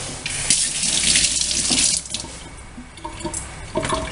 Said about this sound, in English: I will wash one more time my hands